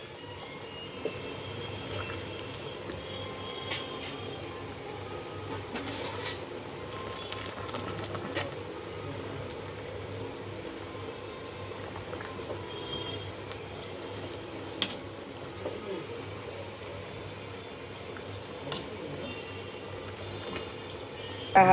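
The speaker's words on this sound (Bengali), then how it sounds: "হালকা হালকা হালকা ফুটবে" A hilsa fish curry simmers gently, giving a soft, faint, continuous bubbling with occasional small pops and clicks.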